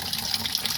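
Water runs steadily through a filter in a rural kitchen, a brief continuous splashing trickle heard up close without talking.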